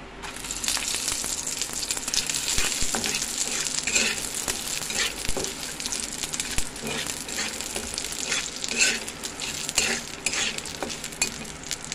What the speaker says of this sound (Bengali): ভালো করে ভাজা ভাজা হোক।